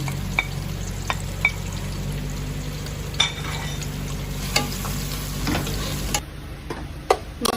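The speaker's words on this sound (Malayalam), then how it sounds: "രണ്ട് സവാള എടുത്തിട്ടുണ്ട്. ഇതൊന്ന് വറുത്തെടുക്കാം." Two onions fry in oil for a Kuttanad-style duck biryani, giving a steady close sizzle punctuated by a few sharp metallic clinks of stirring utensils against the pan.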